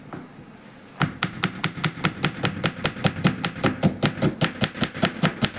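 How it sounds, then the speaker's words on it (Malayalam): Onions being chopped with a knife for samosa masala, heard as a fast, steady run of sharp blade taps on a cutting board that starts abruptly and continues close and evenly. "സമൂസയ്ക്കുള്ള മസാലയ്ക്കുള്ള ഉള്ളി ഉണ്ടാക്കട്ടെ. കട്ട് ചെയ്യാൻ പോവാണ്."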